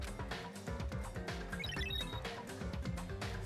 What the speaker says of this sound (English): When the wall clock's alarm rang,